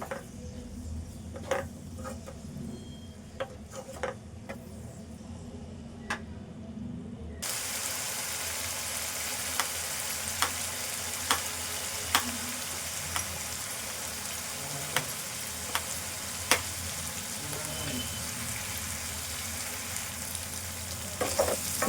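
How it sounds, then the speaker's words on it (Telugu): Onions and green chillies frying in a pan with a steady, close hiss of hot oil, clicked through by repeated light taps and scrapes of a spoon stirring, the sizzle growing fuller partway through. "ఉల్లిపాయ పచ్చిమిర్చి ఇట్లా వేగాలి ఇట్లా దోరగా మంచిగా వేగాలి"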